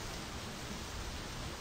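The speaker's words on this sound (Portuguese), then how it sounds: "Sei que tá chovendo." Steady, dense rain hiss from the video game My Summer Car, with no breaks, an even wash of falling rain filling the background.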